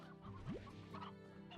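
Chickens clucking in the video game Slime Rancher, a short burst of fowl calls over a steady background of game music and ambient tones.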